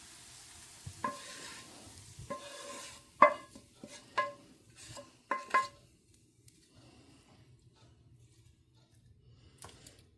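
A spatula stirs shrimp dry fry with onion in coconut oil in a pan, making intermittent close scrapes and knocks over a faint sizzle that fade into quiet toward the end.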